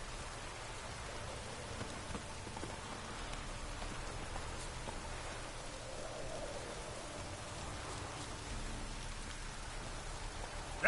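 Rain falls steadily and fairly softly, an even hiss of drops spattering on surfaces throughout with no breaks.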